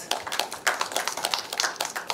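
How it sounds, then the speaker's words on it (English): Scattered hand claps from the audience at a national forum session, a modest, uneven round of separate sharp claps that spread across the room without building into a dense roar. "Please give him a round of applause."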